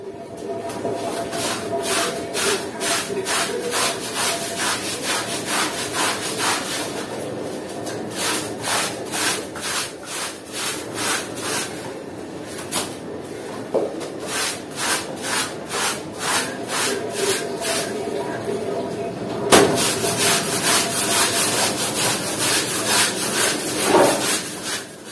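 A door mat is scrubbed by hand with a brush in a home, giving a steady, close rhythmic scraping in long runs of strokes with short pauses between them.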